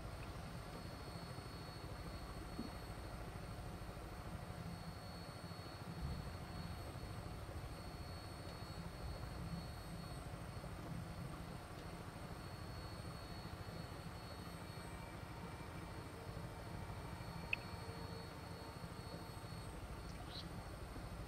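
Steady, droning rotor and engine noise from a helicopter flight in Fallout 4 continues unbroken for over twenty seconds, muffled and even, with a faint click near the end.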